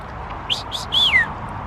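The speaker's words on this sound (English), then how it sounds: "it's the whistling ducks" Whistling ducks give a few short, clear whistled calls, two brief notes and then a longer slurred one, in quiet outdoor surroundings at a holiday park.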